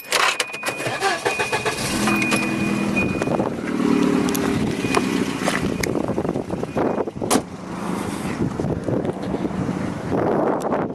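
A 1990 Volvo 240 DL engine runs at idle after being switched back on, a steady close rumble with some wind buffeting and a few sharp clunks over the top.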